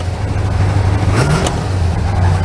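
A totally original Dodge HEMI V8 in an old survivor car idles loud and close with a steady low rumble and a slight rev partway through.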